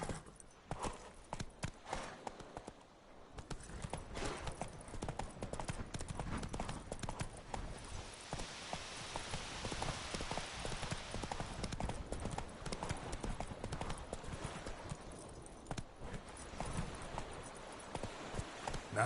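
Roach the horse galloping in The Witcher 3, faint rhythmic hoof clip-clops running on for the whole stretch under a soft wash of ambient game noise.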